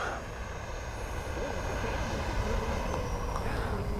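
Small FMS F-18 70mm electric ducted fan RC jet flying past, a steady whining roar with high tonal whine lines, fairly loud and continuous throughout, with a faint voice in the background.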